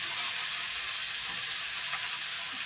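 Mixed vegetables frying in a kadhai after a tempering is added, a steady loud sizzle and crackle of oil that holds evenly throughout with no talking.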